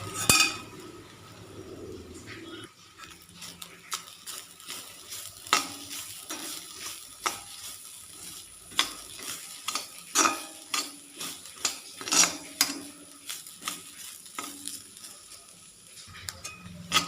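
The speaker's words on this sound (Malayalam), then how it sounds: "നെയ്യും കൂടെ ചേർത്തിട്ട് തേങ്ങ വറുത്തെടുക്കാം" Grated coconut roasting in ghee in a pan, with repeated close scrapes and clinks of a spoon stirring over a soft sizzle, the strokes coming in an uneven rhythm with no talking.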